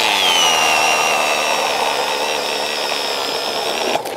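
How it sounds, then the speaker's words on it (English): A power drill bores through thin lake ice in Minnesota while ice fishing, whining loudly and steadily, its pitch dropping slightly as it bores, ending with a brief knock near the close. "I'm gonna drill down"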